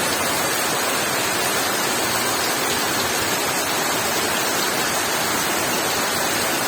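A downpour of heavy rain roars in a continuous, loud wash of hissing noise, close and unbroken, with nothing else standing out over it.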